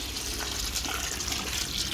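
Water pours steadily into a pot of basmati rice biryani on a clay stove, a soft continuous rushing gush lasting about two seconds.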